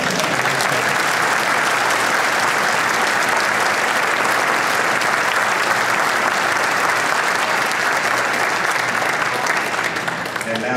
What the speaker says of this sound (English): please give a rousing round of applause to our